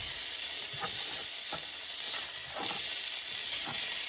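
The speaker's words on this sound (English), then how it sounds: "And now I am going to cook the Polish sausage in the same" Polish sausage sears in a skillet already used for peppers and onions, giving a constant close hiss and sizzle with occasional soft pops and crackles, and no voices.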